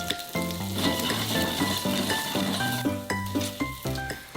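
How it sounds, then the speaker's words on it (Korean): Green onions stir-frying with butter in a hot frying pan for egg fried rice, a continuous close sizzle with tonal music playing over it. "달군 프라이팬에서는 파를 먼저 볶아 향긋한 파기름을 내줍니다"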